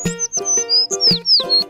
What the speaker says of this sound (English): I see a red bird looking at me.